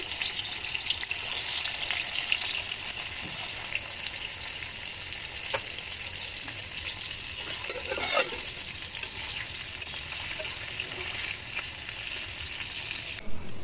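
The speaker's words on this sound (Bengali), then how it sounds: "আমি এখন একটু হালকা ভেজে নিব।" Native koi fish, marinated in turmeric and salt, fry in oil in a kadai with a loud, steady, close-up sizzle and crackle that runs unbroken with no voices.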